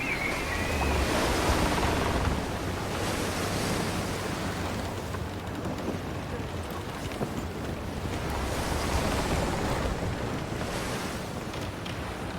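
In the Assassin's Creed Black Flag pirate game, sea waves surge and wind roars steadily around a sailing ship, loud and continuous with rolling swells and no voices.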